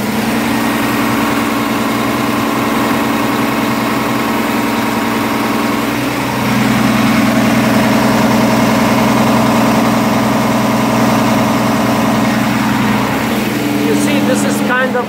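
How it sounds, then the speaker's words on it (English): A truck engine idles steadily on a New York City street, a deep continuous rumble and vibration that swells slightly in intensity partway through and holds throughout, loud and close. "Here is the vibration of the truck. You cannot see it. I can see it, but you can hear it."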